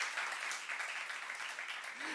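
A church congregation at a youth service sermon claps together, a faint, even patter of many hands heard from a distance that holds steady throughout.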